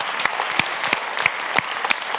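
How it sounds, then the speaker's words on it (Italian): Concert audience applauding in honour of the band's founders at a MilleVoci 2022 show, a steady wash of clapping with sharper rhythmic accents roughly every third of a second, as if the crowd claps along. "dove chiediamo l'applauso più grande per ricordare i fondatori della band"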